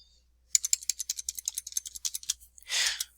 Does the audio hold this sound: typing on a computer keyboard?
yes